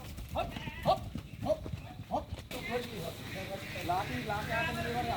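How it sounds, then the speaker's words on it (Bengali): A cow being taken for Qurbani breaks into a run, and its hooves strike in a quick clattering series while people talk nearby. "এই যে গরু দিছে দৌড়।"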